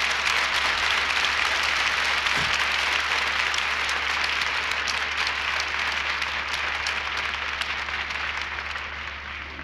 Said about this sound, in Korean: 참 여러분들이 가끔가다 이게 듣는 박수 소리입니다.